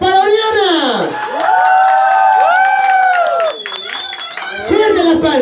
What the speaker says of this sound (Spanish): ¡Fuerte las palmas y grita si desea para Oriana!